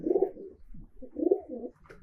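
A breeding pigeon coos close by in two soft, low, rolling phrases separated by a brief pause.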